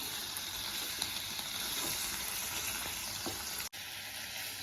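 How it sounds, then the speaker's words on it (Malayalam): Chicken pieces sizzle steadily in hot masala in a pan for a Kerala-style home chicken dish, a continuous frying hiss with occasional soft stirring clinks. "ഇതിലേക്ക് കഴുകി വൃത്തിയാക്കി വെച്ചിട്ടുള്ള ചിക്കൻ ആഡ് ചെയ്യണം. നന്നായിട്ടൊന്ന് മിക്സ് ചെയ്ത് കൊടുക്കാം."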